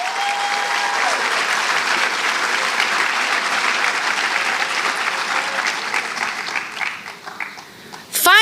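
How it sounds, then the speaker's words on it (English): High school senior awards audience applauds honored students, a loud, dense roar of clapping that holds for several seconds, then thins and tapers before a sharp burst at the end. "Let's hear a round of applause for them."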